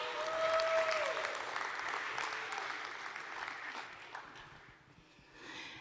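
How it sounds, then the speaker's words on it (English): Audience applause greets panelists coming out to join the host on stage at a DCENTRAL Austin event, a broad wash of clapping that is loudest at first, slowly thins out, then swells briefly again at the end. "Give them a round of applause,"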